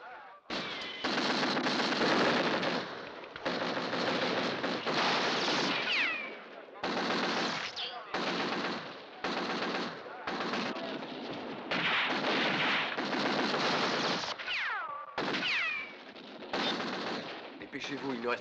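Rapid machine gun fire from a western film, delivered in loud sustained bursts separated by short pauses and continuing almost without break, with no talk over it.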